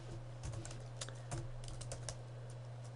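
Keys clatter on a computer keyboard as C++ code is typed, a quick irregular run of close, fairly quiet clicks over a steady low hum.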